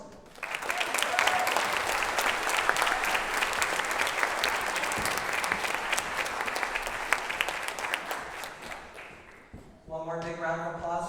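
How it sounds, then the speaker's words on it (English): Audience at a high school symphonic band concert applauding the band's senior class, dense sustained clapping close and loud for about ten seconds before fading, followed by a brief announcement voice. "One more big round of applause for our band senior class."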